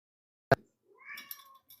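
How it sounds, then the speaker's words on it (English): A house cat meows once, short and close, followed by a softer drawn-out meow with a faint trailing chirp in a quiet room. "Here comes the cat."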